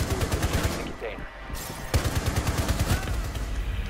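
Rapid automatic gunfire in a ranked match of Rainbow Six Siege, a dense, steady rhythm of close shots continuing throughout with a brief pause, while players talk over it.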